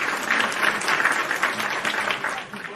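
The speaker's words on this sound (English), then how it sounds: "Round of applause for you" A live audience gives a round of applause at a wrestling talk show, dense steady clapping that fills the whole stretch at close range before easing slightly near the end, with no voices over it.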